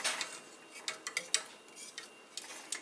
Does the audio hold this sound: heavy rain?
no